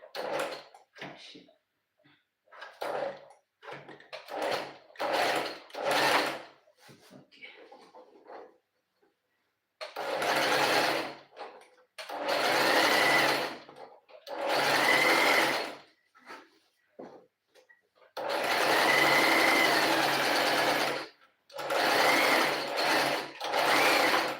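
A sewing machine stitches fabric in loud bursts of rapid mechanical whirring, short runs at first and then longer sustained runs, separated by brief pauses.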